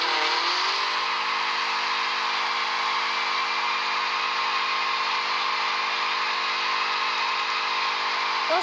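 A car drifting with its engine held at a high, steady rev, a loud sustained buzzing whine that climbs at the start and then holds level without a break.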